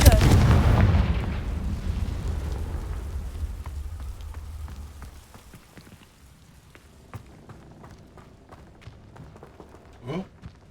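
A Confringo fire spell blast in the Hogwarts Legacy video game: a loud burst at the start that rolls into a long, fading rumble with scattered crackles, then a brief whooshing swell near the end.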